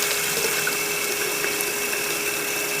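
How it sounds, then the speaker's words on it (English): Hot water rushes steadily out of an opened pipe valve and pours onto a ceiling in an apartment bathroom, giving a constant close hiss and splash with a faint steady tone running through it. "Whoop, there's the water, right into the ceiling."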